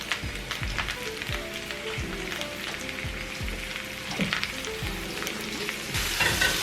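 Garlic goes into potatoes and onions frying in a cast iron skillet, giving a soft steady sizzle with repeated scraping stir strokes, quiet and close.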